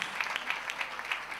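An audience at a dance troupe performance applauds for a family of dancers, a brief burst of moderately distant, rapid clapping.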